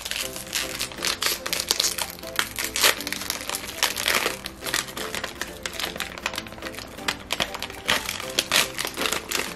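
Plastic wrapping from a pack of brown sugar boba ice cream bars crinkles and crackles in sharp bursts, close up and fairly quiet, over nearly ten seconds with no talking.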